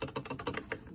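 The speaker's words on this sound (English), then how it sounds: "this is the actual Leopold keyboard as well, so obviously that works. These are Browns" Rapid typing on a Leopold mechanical keyboard fitted with Brown switches, a quick irregular run of close, crisp key clacks with no talking.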